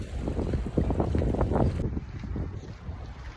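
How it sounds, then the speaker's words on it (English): Strong, cold winter wind in Toronto with drizzling snow buffets the microphone in heavy, gusting rumbles, roaring continuously and loudly throughout with no voices. "Outside is so windy"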